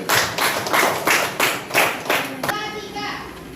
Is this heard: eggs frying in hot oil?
no